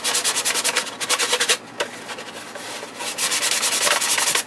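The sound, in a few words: sanding to rough up a surface before priming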